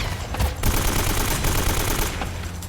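Loud, sustained gunfire from a video game firefight, rapid shots blending into a continuous rattle with sharper bursts near the start and around two seconds.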